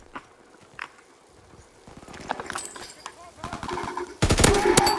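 Gunfire in the video game Call of Duty: WWII starts as scattered faint shots and clatter. It grows busier, then breaks into a loud, dense burst of rapid fire at the end.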